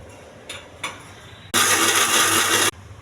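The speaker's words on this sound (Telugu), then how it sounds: "పచ్చిమిర్చి, పుదీనా కూడా వేసుకోవాలండి. మళ్ళీ మిక్సీ వేసుకోవాలి." A mixie grinding green chilli and mint for chutney gives two short pulses, then a loud steady whirring burst of about a second before stopping abruptly.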